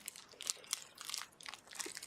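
Close, moist crunching and chewing of sugary sweets in short irregular bites, fairly faint and with no talking over it.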